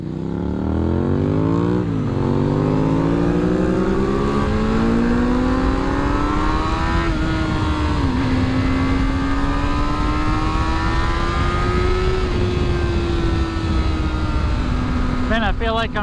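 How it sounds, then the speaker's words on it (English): A sport motorcycle is ridden hard, its engine revving up repeatedly through rising pitches before holding a loud, steady high drone, with wind rushing over the microphone throughout. "Man, I feel like I'm running your bike hard, but we're not even getting close to red line."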